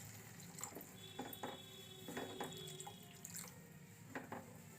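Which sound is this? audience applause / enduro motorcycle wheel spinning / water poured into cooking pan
water poured into cooking pan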